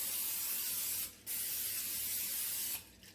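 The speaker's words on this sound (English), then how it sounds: "Let me spray this bad boy over my sink so I don't get out my everything all sticky and oily" Oily cooking spray hisses from a can over a kitchen sink in two long bursts separated by a brief pause, with a short broken spurt at the end, close and fairly loud.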